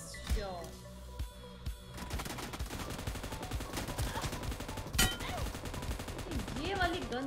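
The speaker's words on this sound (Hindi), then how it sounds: "ये वाली गन बहुत बढ़िया लगती है मुझे, दू दू दू दू दू दू चलती है।" A gun firing in a team deathmatch video game, with rapid bursts of shots scattered through the clip over game sounds and a talking voice.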